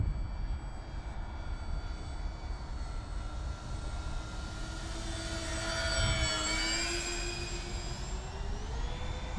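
A HobbyKing Avios Albatross HU-16 V2 RC model plane in US Coast Guard livery flies overhead, its twin electric motors giving a steady whine that rises and falls in pitch as it passes, loudest near the middle, with no talking.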